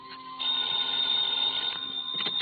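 A telephone bell rings steadily and loudly in an old-time radio detective drama, a continuous metallic trill filling the scene with no talk over it.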